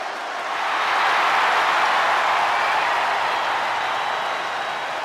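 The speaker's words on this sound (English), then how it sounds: "no one gets an ovation like LA Knight" A dense, steady roar of crowd cheering and applause fills a wrestling arena during a wrestler's entrance in the WWE 2K26 video game. It swells in after the first half-second and holds loud and continuous to the end.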